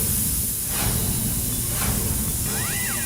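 A pressure cooker's loud, steady hissing whistle of steam escaping under pressure, continuous for several seconds with slight pulsing in its tone.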